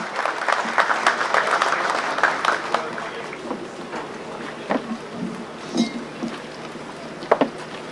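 An audience at a ceremony opening the İzmit VTS station applauds as a minister is invited onstage, dense clapping that starts strong, thins into scattered claps and fades to a few isolated claps at the end.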